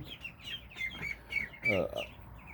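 Ducklings in a brooder kept near 90 degrees, giving a few close, high peeping chirps in short bursts against a quiet background, with no talk.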